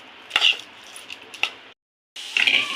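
Onion masala being stirred with a metal spoon in a pot, giving a few close clinks and scrapes, then a brief silence before a lid goes on with a short metallic rattle.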